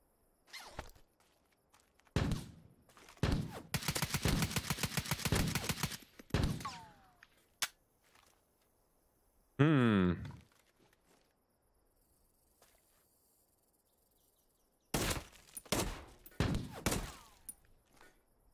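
Gunfire, including a shotgun, in the Teardown video game with a post-apocalyptic survival mod: scattered sharp shots, a dense rapid rattling burst, and later more clustered blasts separated by near silence.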